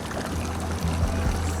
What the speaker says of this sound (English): And this fountain is right here.